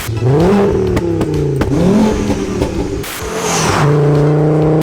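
A 5-cylinder-swapped VW Golf GTI Mk2 revs hard and loud up close, its engine note climbing and dropping in repeated blips before settling into a sustained higher rev.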